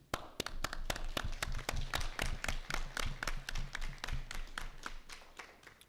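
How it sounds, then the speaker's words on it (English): Scattered audience applause at a school board meeting honoring administrative professionals, distinct individual claps at an uneven rhythm that build and then thin out, moderately quiet and not under talk. "if we could give them a round of applause"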